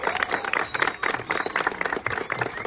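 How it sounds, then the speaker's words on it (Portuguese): An audience applauds council candidates at a Workers' Party gathering in Natal, a dense, sustained wash of clapping from many hands with some crowd noise, steady and fairly loud throughout. "Uma salva de palmas para essa companheirada."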